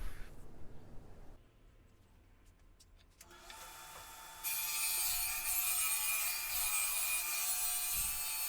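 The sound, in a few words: Sears Craftsman table saw cutting wood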